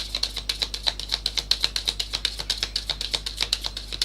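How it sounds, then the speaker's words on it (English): Tarot cards being shuffled during a live reading, a quick, even run of crisp papery clicks repeating about six times a second, close and unaccompanied by talk. "I want one more shuffle for Nandini."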